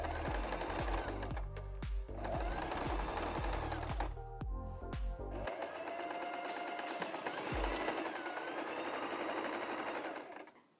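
A sewing machine stitches along pinned fabric to attach a piece onto the main panel of a fabric organizer, running in a steady, close, continuous whir with a few brief pauses and no talk over it.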